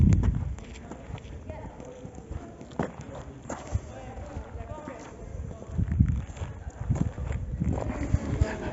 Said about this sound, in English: Speedy Gonzales, look at him go. Oh, poor donkey, no mates